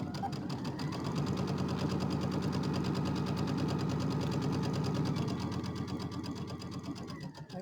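A sewing machine runs steadily for several seconds, hemming fabric for a rectangular bench buddy, with a continuous close whirring stitch rhythm that eases off near the end.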